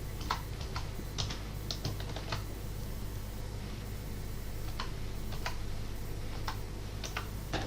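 Password keys tapped on a computer keyboard in irregular bursts of close, crisp clicks, with pauses between the bursts and a steady low hum underneath.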